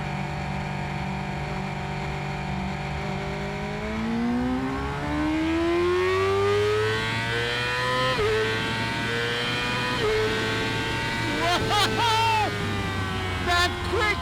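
2018 Yamaha R6 motorcycle with a quick shifter accelerating on a ride, its engine note climbing steadily through the gears with quick, clipped upshifts and a loud, close, continuous roar throughout.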